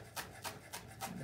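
A knife chops fresh parsley in four soft, evenly spaced strokes, quiet and close, with no talking.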